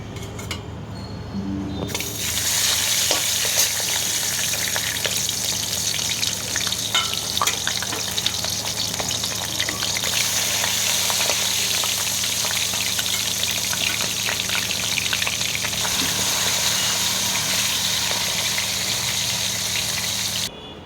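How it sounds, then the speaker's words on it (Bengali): Hilsa fish fries lightly in mustard oil in a wok for an eggplant-and-hilsa dish. A loud, dense sizzle bursts in after a short quiet start and holds steady and close, with faint clinks. "এবার আমি মাছটাকে হালকা করে একটু ভেজে নেব।"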